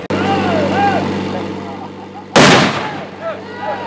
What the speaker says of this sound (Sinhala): තව එකක් දාන්න වෙඩිල්ලක් දාන්න තව.